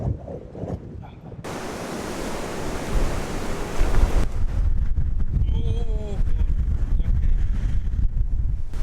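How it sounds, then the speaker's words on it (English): Strong storm wind buffets the microphone in loud, steady broadband gusts, roaring continuously, with a brief harmonic whine and faint voice-like tones partway through. "it's definitely blowy out here"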